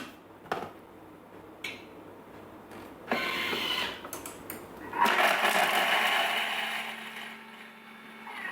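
A Thermomix chops garlic for coconut chicken curry, with a few sharp knocks and short whirring bursts before the motor settles into a sustained, moderately loud buzzing spin.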